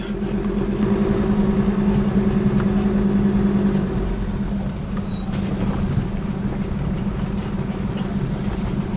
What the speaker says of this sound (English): Looks like I'm caught in country traffic.